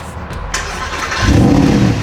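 A car engine cranks and catches with a sharp burst, then settles into a loud, close, low running rumble.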